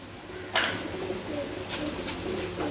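Pigeons on a rooftop, with soft low cooing and a few brief wing flutters and rustles at a moderate distance over quiet background.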